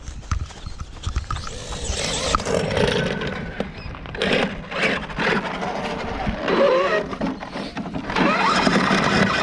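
An X-Maxx RC truck with a damaged front differential runs close by in loud, continuous bursts, its motor revving and whining unevenly with rattling, clattering knocks throughout.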